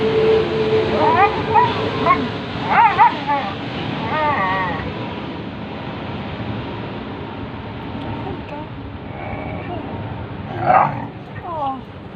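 Dogs bark and whimper in short yelps and whines scattered across a loud windy or surf-like background, with a person talking over them.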